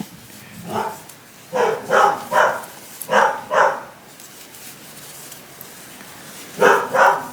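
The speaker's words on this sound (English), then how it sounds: "I don't have to listen to the dogs barking" Dogs bark in several short bursts of two or three barks each, moderately loud and somewhat distant, separated by quiet gaps, with no talking.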